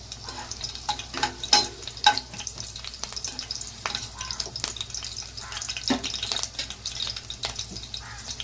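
Green chillies, cut to medium size, fry in hot oil for methi bhaji, a close steady sizzle broken by spoon scrapes and stirring clatter, with no talking.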